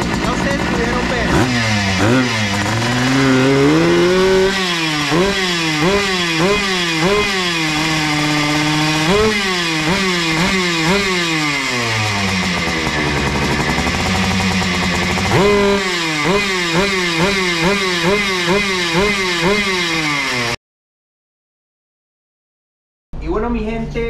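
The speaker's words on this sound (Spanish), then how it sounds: "ya encendió, ahí lo que pudieron escuchar es que está un poquito acelerada" A Yamaha MX 2T two-stroke motorcycle engine runs at a slightly high idle with a broken throttle, its buzzing note rising and falling with blips of revving, close and loud throughout before cutting out near the end.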